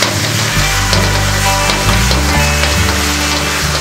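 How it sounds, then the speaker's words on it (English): Loud, continuous sizzling and crackling of vegetables frying in a hot pan after balsamic vinaigrette is poured on, steady throughout. "Hear that sizzle?"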